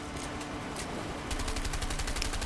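Gunfire erupts in the video game A Way Out during a boat scene, a rapid machine-gun-like burst of shots that grows denser and louder in the second half with no talk over it.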